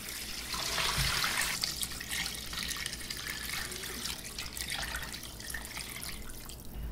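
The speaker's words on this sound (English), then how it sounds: "we're going to add 32 cups of water." A steady, continuous rush of water pours and splashes into a stock pot holding chicken for stock, holding an even level throughout with no speech.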